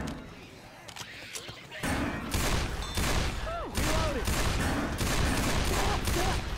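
Gunshots in Left 4 Dead 2, quiet at first then a loud run of repeated shots with game effects ringing out, overlapping speech.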